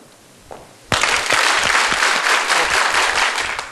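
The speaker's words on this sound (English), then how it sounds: "You start clapping with me. Take it to the highest volume level you can get it." A seminar audience bursts into loud, dense clapping after a moment of quiet and sustains it at full volume, then tapers slightly at the close.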